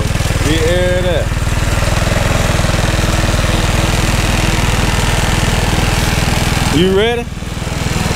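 A 150cc go-kart engine idles steadily throughout, with a brief voice near the start and another short voice near the end over the running motor.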